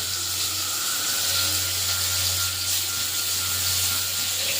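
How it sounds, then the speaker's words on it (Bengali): Ridge gourd sizzles and hisses steadily in a hot pan, a constant soft frying sound with a low hum beneath. "ঝিঙা ভাজাটা হয়ে এসছে, এবারে পেঁয়াজ লঙ্কা বাটাটা দিয়ে দেবো।"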